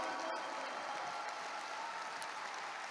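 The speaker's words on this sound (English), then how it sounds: "Can we give our Vietnamese brothers a round of applause today?" An audience claps steadily throughout, a dense, even patter of many hands heard from a moderate distance with no voices standing out.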